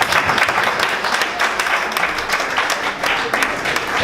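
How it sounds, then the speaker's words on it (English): An audience applauds the moderator of an Art Deco district talk with steady, dense clapping. The applause stays loud and close for the whole stretch. "Let's give her a round of applause"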